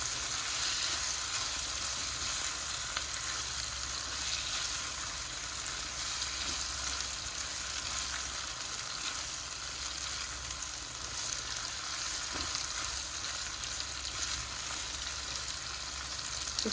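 Capsicum and taro root (arvi) fry in hot oil in a pan, giving a continuous even sizzle with faint crackles and the occasional stirring scrape, steady and close throughout.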